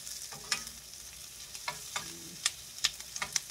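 Carrots being stir-fried in a pan, a spatula scraping and tossing in quick irregular strokes over a soft sizzle, close and moderately quiet.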